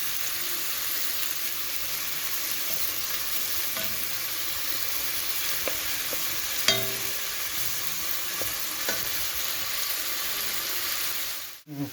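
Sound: onions frying in oil

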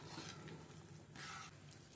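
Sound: spicy fish curry boiling in a pot

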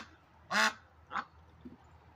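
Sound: duck quacking

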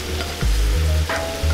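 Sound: octopus sizzling in butter, olive oil, garlic and onions

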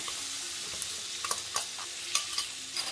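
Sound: ginger-chili paste sautéing in butter and oil for pav bhaji

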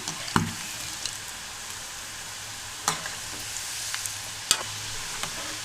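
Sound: stirring rice flour chegodilu frying in oil

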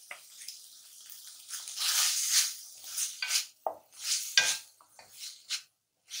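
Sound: chicken frying and being stirred in a pan

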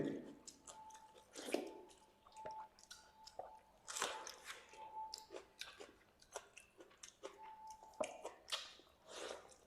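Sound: chewing panta rice with mashed potato

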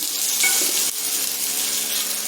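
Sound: bajji dosa roasting on a pan

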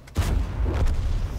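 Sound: A-44 tank cannon firing in video game World of Tanks

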